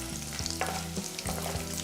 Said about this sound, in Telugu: కొబ్బరి ముక్కలు మనకి దోరగా వేగిపోయాయి కాబట్టి ఇందులో మనం డ్రై ఫ్రూట్స్ కూడా యాడ్ చేసేద్దాం